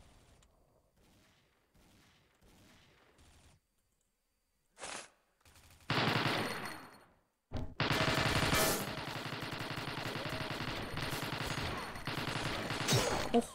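Rapid automatic gunfire rattles in the online shooter XSHOT, first a few faint scattered shots, then a short burst, then long loud continuous volleys filling the second half, close and dense.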